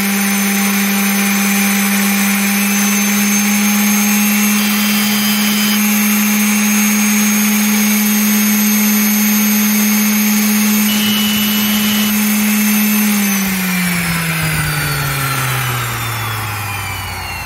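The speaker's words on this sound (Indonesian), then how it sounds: "kita akan ukur untuk tingkat kebisingan pada kecepatan maksimal atau nomor 6" A Yasuka YSD125B random orbital sander runs at its maximum speed setting 6, a loud, steady high-pitched motor whine with a strong hum that holds for many seconds, then winds down slightly in pitch toward the end.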